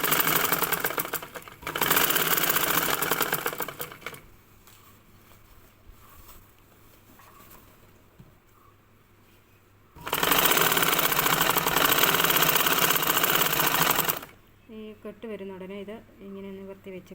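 A sewing machine stitching a blouse, two loud bursts of rapid whirring with quieter pauses between, while someone talks during the gaps.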